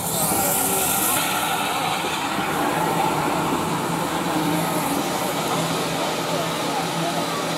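T9 steam locomotive working at Corfe Castle, a steady loud rumbling roar that continues throughout with no break.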